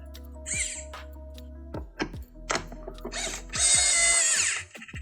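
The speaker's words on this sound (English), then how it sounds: "time to change the screwdriver to a Phillips head 2" Monitor screws being unscrewed with a Phillips head 2 screwdriver: scattered close clicks, ratchety squeaks and small metallic taps, with a longer scraping burst near the end, no talk.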